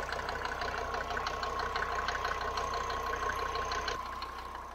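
A Mercedes 250D W124 diesel with 350,000 km idles close to the microphone, its steady rhythmic clatter knocking evenly throughout with a constant low drone underneath.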